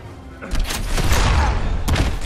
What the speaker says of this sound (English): when you push this red button, you can actually launch these rockets over at Superman there